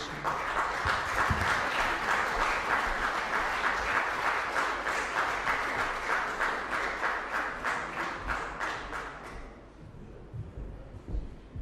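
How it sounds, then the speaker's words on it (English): An audience at an International Human Rights Day commemoration gives a sustained round of applause, dense and steady clapping that fills the room for about nine seconds before thinning out to a few scattered claps. "let us honor Thandeka with another round of applause for her courage, her bravery, and for her whistleblowing"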